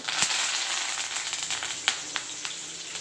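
Curry leaves spitting and crackling in hot oil with fried almonds for khara pongal, a steady close sizzle broken by several sharp pops, no talking.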